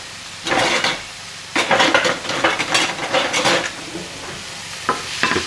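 Shiitake mushrooms and pork frying in a pan, with bursts of scraping and clattering as a utensil stirs them over a low sizzle, close up and without speech.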